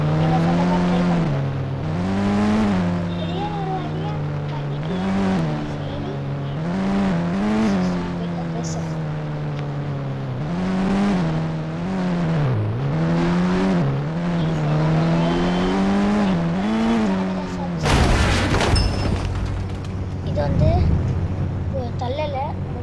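A car engine in a racing video game revs again and again through rising and falling gear pulls, loud and close, with a sudden harsh burst near the end.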